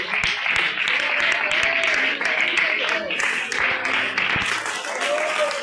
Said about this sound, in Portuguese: dê uma salva de palmas bem forte para Jesus